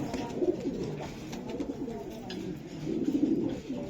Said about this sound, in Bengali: এই যে দেন প্রত্যেকটা কবুতর।